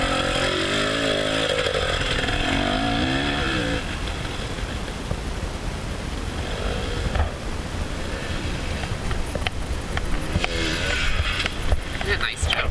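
A dirt bike engine revs and accelerates through a sand corner during training, its strained buzzing roar rising and falling continuously and close, with voices talking under it.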